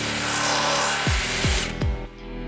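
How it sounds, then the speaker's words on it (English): A power drill runs steadily as a 3/8 drill bit finishes boring a hole during a belly pan install on a Jeep JLU 4xe, with the motor winding down in three quick spin-downs near the end. "use a 3/8 drill bit to finish drilling a hole"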